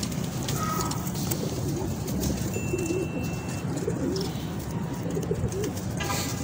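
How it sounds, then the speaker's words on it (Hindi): A domestic star pigeon coos in soft repeated low calls at close range over a rushing, rain-like background hiss, with a faint chirp or two mixed in. "अब ये जी अगला कबूतर आया"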